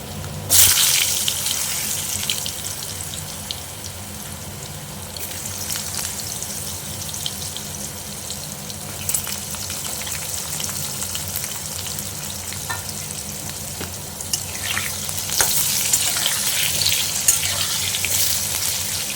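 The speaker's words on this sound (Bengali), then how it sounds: "আলুগুলো ভেজে নিই" Potatoes fry in hot oil in a pan with a dense, steady sizzle and crackle, close and continuous, with occasional brief louder spits and stirring.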